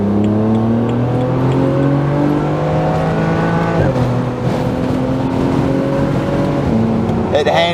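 Loud, close engine of a BMW Z4 sDrive35i (E89) pulling hard through the revs, with one gear change midway and the drone rising again, heard from inside the car.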